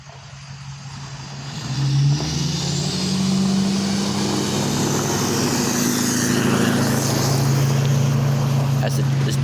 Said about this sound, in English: car comes by, a big old truck.